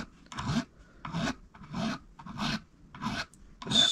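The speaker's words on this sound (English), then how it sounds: "what I am going to do today is use a little flat file" Small flat file rasping on part of a Les Paul-style electric guitar during a modification, six slow, even strokes with short pauses between, close and clear with no talking.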